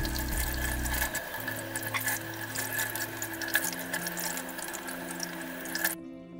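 Running water rinses a hair treatment from curly, coily hair, a steady splashing flow with drips and irregular spatters that stops abruptly near the end, under a low background tone and no speech.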